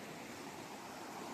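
Two rivers meeting at a Himalayan confluence pour with a steady, broad rush of water that stays loud and unbroken throughout, with no voices.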